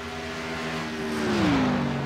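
A single race car, the number 57 of the GFRL K&N Series, roars through a qualifying lap at Indianapolis. Its loud engine drones steadily, then its pitch glides downward as it sweeps past.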